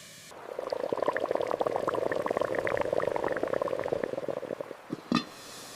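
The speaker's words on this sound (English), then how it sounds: "Wait for the water to boil." Water coming to a boil in a pot on the stove for instant noodles, a steady close bubbling and churning that runs throughout, ending with a brief clink.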